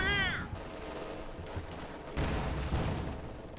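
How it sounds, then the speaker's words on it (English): MG42 machine gun fire in a Company of Heroes 2 battle, a dense crackle of gunfire under general battle noise, steady and mid-distance with a brief chirp at the start. "MG42 has suppressed the captain."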